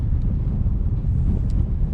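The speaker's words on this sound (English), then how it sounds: "And just behind, extremely windy" Strong wind roars across the microphone on the North Welsh coast between Flint and Ffynnongroyw, a loud, steady low rumble with gusty fluctuation throughout.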